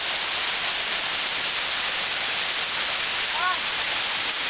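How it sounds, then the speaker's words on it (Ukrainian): Dense, constant rush of a tiered waterfall about 18 metres high, heard from its second tier, loud and close, filling the whole scene with a steady hiss; a brief faint voice surfaces once. "Я знаходжуся на висоті другого ярусу водоспаду."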